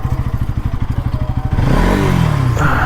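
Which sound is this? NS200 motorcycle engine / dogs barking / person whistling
NS200 motorcycle engine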